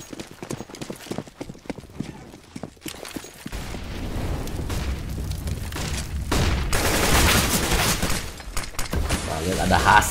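Gunfire bursts crackle during a grand final esports match of a shooter video game, faint and sparse at first and then building into dense, rapid fire that continues to the end, with commentary talk underneath.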